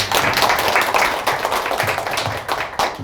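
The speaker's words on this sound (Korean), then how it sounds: "박수 한번 주세요" A small group claps for a participant during a training session, with uneven, fairly close hand claps that thin out toward the end.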